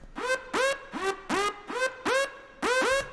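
A synthesized laser effect in an electronic production, repeating as short zaps that each open with a downward pitch sweep and a buzzy harmonic tone, in a steady rhythm of about seven hits.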